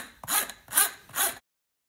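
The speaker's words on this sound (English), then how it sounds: "So I'm just gonna take this hole saw" A hole saw scrapes across plastic to roughen its edge, three rasping strokes in a steady back-and-forth rhythm, close and fairly loud, then silence.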